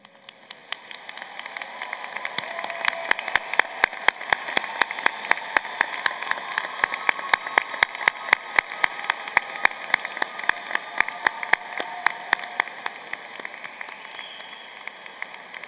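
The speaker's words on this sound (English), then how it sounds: "please stand as you are able at this time for a round of applause" Applause at an undergraduate commencement ceremony for graduates with distinction or honors, many scattered claps building from quiet to a sustained, moderately loud patter across a large hall.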